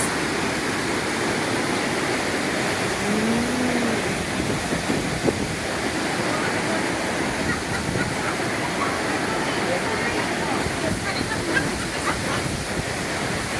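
Niagara Falls, with green water rushing and roaring in a loud, steady, unbroken wash of noise. A faint voice is briefly heard beneath it.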